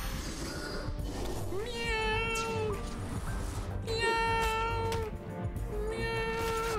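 A cat meows repeatedly in a video game, about three long drawn-out wails, loud and close over busy game sound.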